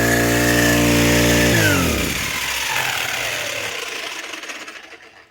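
A new grass cutter engine runs on a farm: a loud, steady two-stroke buzz close by, then the engine cuts off and winds down over a few seconds into a fading rattle and silence.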